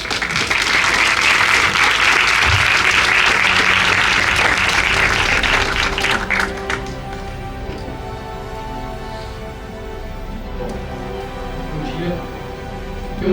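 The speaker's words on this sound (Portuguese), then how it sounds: "Uma salva de palmas." Audience applause at an entrepreneurship and innovation congress, loud dense clapping for about six seconds that cuts off abruptly, leaving a quieter room with low murmuring and faint hum.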